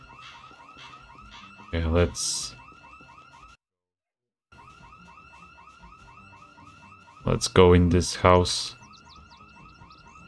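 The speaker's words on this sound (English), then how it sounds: "Church alarm." A church alarm in Project Zomboid rings with a steady, repeating electronic wail that runs through the whole stretch and briefly cuts out midway, while someone talks over it in two loud bursts.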